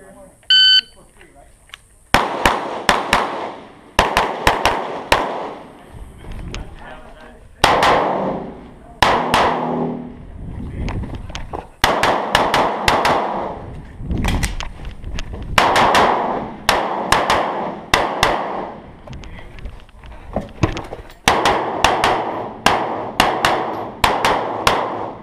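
Rapid gunshots fired at a USPSA practical shooting stage in Frostproof, Florida, crack out in quick strings and bursts, loud and close, with a short beep before them and brief pauses between strings.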